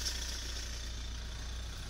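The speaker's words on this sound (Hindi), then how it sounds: "engine sound" A black second-hand Mahindra Scorpio S11 SUV idling at standstill, its engine giving a steady low hum with a faint rattle, constant and close, with no speech over it.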